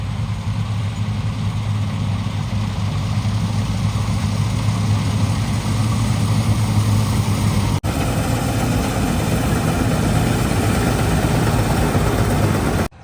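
Combine harvester running in a wheat field, a steady loud engine drone with low mechanical hum held throughout, close by and continuous with no talk.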